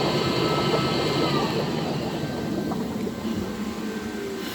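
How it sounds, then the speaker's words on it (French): A homemade low-budget 1000-litre spa pump runs air and water jets together, a steady close roar of rushing water and bubbling air that holds even throughout with no speech. "Donc là, il y a l'air et les jets d'eau."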